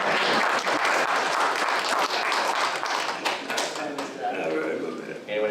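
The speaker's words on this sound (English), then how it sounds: "You can applause." A room at a city council meeting breaks into dense applause that thins out over several seconds, while voices talk over the clapping.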